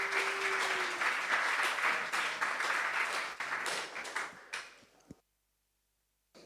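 An audience at the bitcoin++ Istanbul conference applauds in a steady, moderately loud burst of clapping that fades out and then cuts off into silence.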